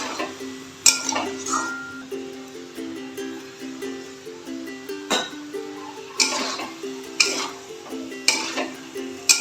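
Winter vegetables being stirred in a pan with a little water, giving repeated soft clinks and scrapes of a utensil against the pan at a steady, unhurried rhythm, close by, with a faint background hum.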